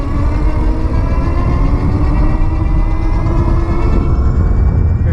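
Mokwheel Onyx mid-drive e-bike at full throttle, a loud steady motor whine with stacked tonal harmonics and heavy low rumble, holding constant throughout with wind buffeting and no talking.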